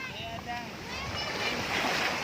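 Sea waves wash onto a beach on a windy day, a steady rushing surf with wind noise buffeting the microphone, loud and continuous with faint voices in the background.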